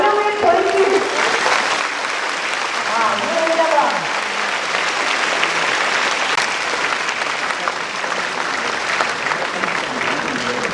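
Sustained audience applause fills a large cultural-centre hall at a big official event in Bodh Gaya, loud and steady for the whole stretch, with a few voices and tones briefly showing through early on.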